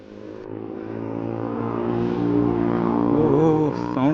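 A Yamaha R15 motorcycle with a loud exhaust revs up, its engine note climbing steadily in pitch and volume before a sharp throttle blip near the end, close by with no talking.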